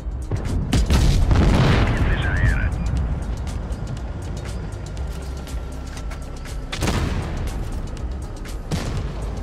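Gunshots ring out in a video game, a few sharp, loud bursts early on and again near the end, with game noise and rumble filling the gaps.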